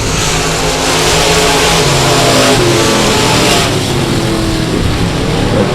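Race cars roar at South Texas Speedway, a loud, continuous engine drone with rising and shifting pitch as the field accelerates, close and dense with no voices.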